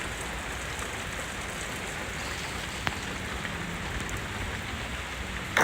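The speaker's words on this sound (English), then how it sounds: "Now the rain started getting a little heavier." Heavy rain pours steadily through a Boston thundershower, a dense continuous hiss of drops on surfaces with one brief sharp tap partway through and no voices.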